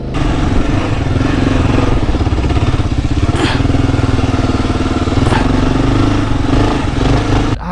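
A Yamaha Tenere 700 motorcycle ridden off-road, its engine a loud, steady close-up drone with slight rises and dips throughout and no talking.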